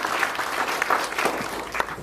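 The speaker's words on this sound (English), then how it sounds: "Yes, clap for them." Applause from the audience at a meeting of vocational college principals and industry partners: steady, dense clapping with a few sharper claps, sustained for the whole two seconds with no voices on top.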